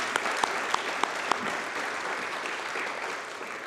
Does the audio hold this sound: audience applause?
yes